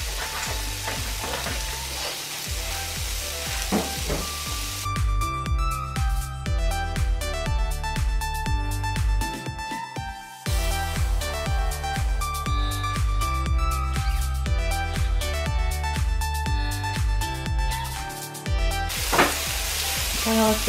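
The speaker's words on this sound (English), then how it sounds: "we're going to start working on the fried rice. We're going to start with the onions." Onions for fried rice sizzle steadily in a hot pan, a dense continuous crackle with stirring and occasional utensil clinks, loud and close.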